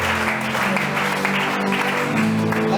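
A church congregation at an anniversary worship service claps steadily and cheers, a dense even wash of applause held throughout with faint music and voices beneath.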